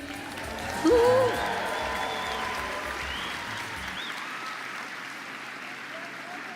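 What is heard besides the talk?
applause for graduates at a graduation ceremony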